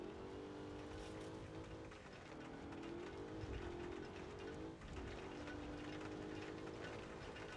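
Pro 4 off-road truck engine in BeamNG.drive, a steady harmonic drone that rises and dips with throttle changes, continuous and fairly loud over a noisy, rain-like wash of background sound.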